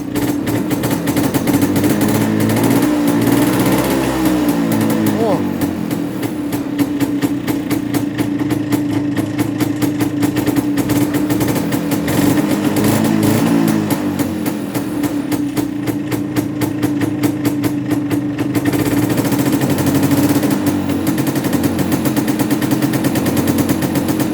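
A Muravey motor scooter engine with a new relay, revved steadily in a garage: a loud, rapid, rattling two-stroke buzz that holds nearly constant throughout with slight swells in pitch.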